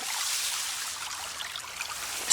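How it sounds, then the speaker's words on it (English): Water gushing from a Zoeller sump pump discharge in a flooded basement, a steady, fairly quiet hissing trickle that runs unbroken for a couple of seconds. "There's the water coming out right here."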